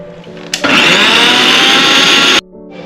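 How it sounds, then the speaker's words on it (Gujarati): An electric mixer grinder crushes chillies and coriander with a spoonful of water into a paste for pani puri masala, roaring loudly and steadily for about two seconds before cutting off abruptly, with quiet room tone before and after. "હવે આપણે એને ક્રશ કરી લઈએ।"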